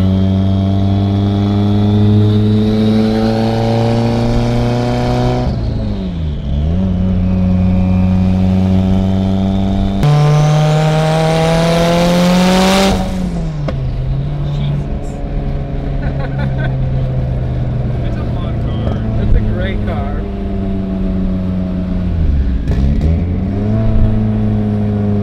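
A 2007 Subaru WRX STI engine revs hard while driving up and down a street, its loud, close tone climbing through gears with distinct drops around each shift and a brief lift-off near the end.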